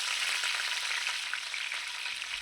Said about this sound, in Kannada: ಕರಿಬೇವು ಸೊಪ್ಪು ಪಟಪಟ ಅಂತ ಸೌಂಡ್ ಬರ್ತಾ ಇರಬೇಕಾದ್ರೆ